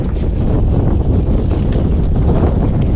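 Strong, steady wind roars over a fishing raft at sea, buffeting the microphone with a continuous low rumble for the whole stretch and no talking.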